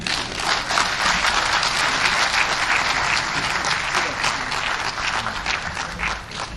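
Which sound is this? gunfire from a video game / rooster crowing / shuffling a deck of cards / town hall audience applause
town hall audience applause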